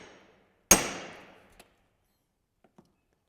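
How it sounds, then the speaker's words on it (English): On a barn find Buick, a hammer lands one sharp, ringing whack on metal that decays over about a second, followed by a few faint small taps, with no voices. "We'll be grabbing the other hammer. Give that a whack."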